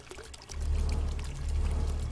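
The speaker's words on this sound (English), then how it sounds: "Look at the water effects." Water gushes and pours in a hidden-object video game, a dense low rushing that swells in after a quiet start and holds steady, with no voices over it.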